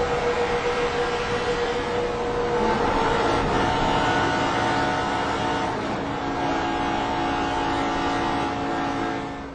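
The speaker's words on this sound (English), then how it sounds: "Let's listen to Junior's onboard, see if that helps determine what happened here." Onboard audio from Dale Earnhardt Jr.'s NASCAR stock car during the Geico 500 at Talladega: a loud, continuous engine drone whose pitch shifts slightly as the car runs at speed, with no voices.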